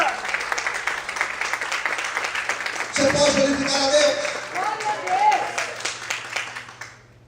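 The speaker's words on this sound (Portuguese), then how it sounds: "Quantos podem aplaudir e exaltar ao Senhor?" Church congregation applauds during a sermon with steady clapping throughout, while a preacher's voice speaks over it in the middle and the sound fades at the end.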